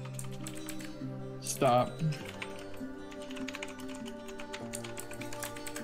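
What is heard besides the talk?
typing on a computer keyboard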